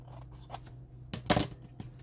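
Scissors trimming paper for a handmade Christmas card, a few quiet snips followed by one louder, sharper cut, close up with no talking.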